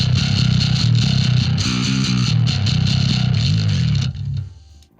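A heavily distorted bass guitar, played through a compact valve pedalboard, plays a chugging metal riff with dense low notes, loud and continuous before ringing out and fading at the end.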